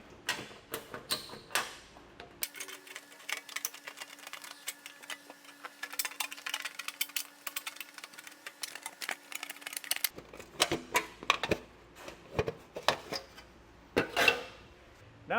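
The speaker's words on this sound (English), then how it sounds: "I'm just going to use some tin snips" Tin snips chew through a thin metal heat shield on a 2016 Ford Fiesta, a steady run of sharp close clicks and crunching cuts with a faint hum in the middle stretch.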